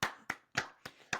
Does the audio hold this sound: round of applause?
yes